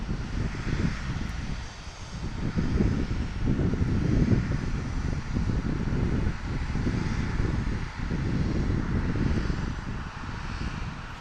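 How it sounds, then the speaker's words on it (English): An Alaska Airlines Embraer E-175 jet comes inbound at Portland International Airport, its broad engine roar and whine steady and fairly loud throughout, swelling and dipping slightly with wind noise. "E-175 inbound, Alaska Airlines,"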